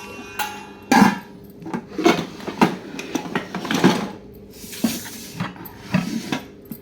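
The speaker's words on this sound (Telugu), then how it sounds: "ఇది ఒక కడాయి ఇదైతే మూత చాలా బరువుగా ఉంటుంది" A heavy steel kadai and its weighty lid being handled, giving a series of irregular metallic clanks and knocks, some sharp and loud, with scraping between them.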